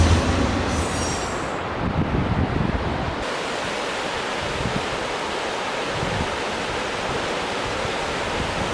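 A train rumbles past close to a bike trail on the Great Allegheny Passage, a loud, continuous roar of wheels and wagons with rough low-end churning and a brief higher squeal near the start.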